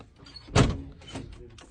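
A door pushed shut in a Turkish home on a cold day, giving one solid thud followed by a softer second knock, close by in a quiet room.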